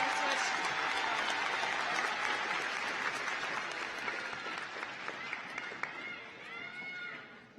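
Sustained applause and cheering from the audience at a 2016 high school graduation ceremony fill the hall as names are read, a dense, loud crowd wash with scattered whistles that fades slightly near the end.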